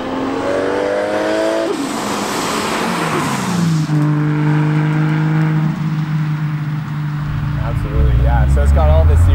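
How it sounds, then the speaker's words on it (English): A 1JZ-swapped Toyota Cressida engine revs hard and loud close by, climbing and falling, then the wastegate blows off in a rushing hiss and the revs drop, with voices talking over the engine noise. "There's the wastegate."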